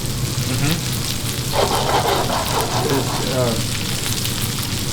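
Pork loin schnitzel sizzles in a hot frying pan, a steady close crackle that swells into busier spitting and bubbling midway, with faint speech in the background.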